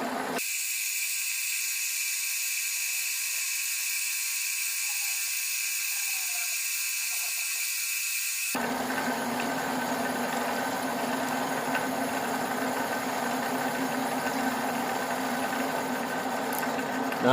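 Automatic cylinder boring machine cutting an engine block, a steady high mechanical whine that cuts out partway and gives way to a lower, rougher running hum, continuous and near, with no voices.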